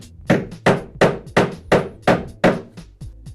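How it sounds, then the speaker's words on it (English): Hammer gently tapping plastic fixing blocks into place on the rear of a kitchen pan drawer unit during flat-pack assembly, about nine sharp, evenly spaced knocks, close and loud with no talk. "gently tap them into position."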